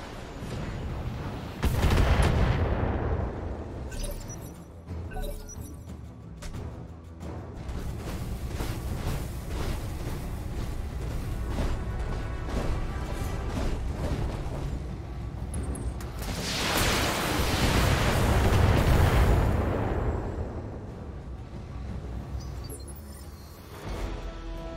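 Mech weapons fire and explosions in the BattleTech video game make a long, dense barrage of rapid shots with deep rumbling booms that swell near the start and again toward the end.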